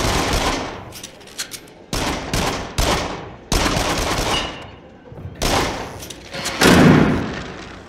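Bursts of rapid gunfire in the VR game Until Dawn: Rush of Blood, loud close volleys separated by short pauses, with a couple of heavy thuds near the end.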